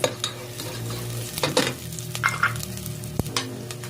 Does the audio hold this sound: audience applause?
no